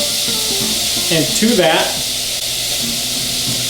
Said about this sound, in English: I love to hear that sizzle, one of my favorite sounds.